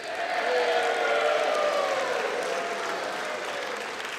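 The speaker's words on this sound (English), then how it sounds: "invariably that announcement brings cheers" Applause mixed with scattered cheers fills the US House floor, a steady wash of clapping from a large room that fades slightly toward the end.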